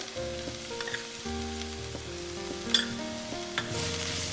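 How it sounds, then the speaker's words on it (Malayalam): Onions sauté in a hot pan with ginger, garlic and chilli for a crab roast, giving a steady soft sizzle with occasional stirring clinks and scrapes, with no talk. "വീണ്ടും നന്നായി വഴറ്റുക"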